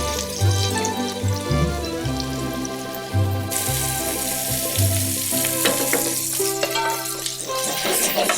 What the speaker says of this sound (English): while the polpette are browning on the outside